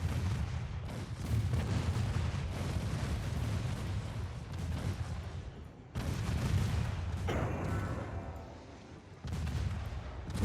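Naval gunfire from warships in the game Ultimate Admiral Dreadnoughts, dense overlapping booming salvos that continue loudly throughout with brief dips, no talk.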